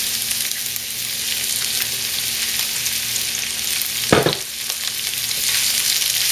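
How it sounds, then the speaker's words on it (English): Asparagus and vegetables fry in oil with a steady crackling sizzle, interrupted by one brief scrape of stirring in the pan. "Just stir everything around so that everything is covered with oil, has a chance to hit the bottom of the pan."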